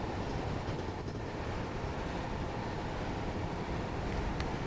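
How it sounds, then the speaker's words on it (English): Steady, heavy rumble of a train climbing a steep upward gradient into Balham Station in the game Train Sim World 3, a continuous broadband drone with no talking over it. "we're now climbing a steep upward gradient into Balham Station here"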